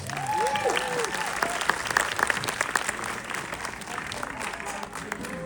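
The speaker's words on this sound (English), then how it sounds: "let's have another round of applause for these guys." An audience at a film Q&A for Ramayana with Ranbir Kapoor gives a steady round of applause. Voices and a few whoops rise briefly over the clapping near the start.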